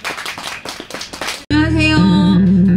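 Audience clapping at an outdoor pumba street performance at Songhae Park, a brisk burst of applause lasting about a second and a half before it cuts off abruptly and sustained music takes over.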